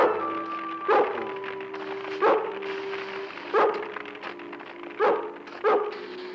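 Cartoon collie Lassie barks in five sharp, evenly spaced woofs over a steady background music bed, each bark loud and close.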